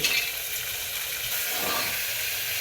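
Potatoes and peanuts frying in a pan, a continuous bright close sizzle and hiss with a faint stirring scrape partway through.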